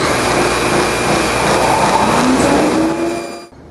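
A saw blade cuts a tenon shoulder in wood for a small secretary's base joinery, giving a steady, loud whirring rasp that holds evenly for over three seconds before stopping abruptly near the end.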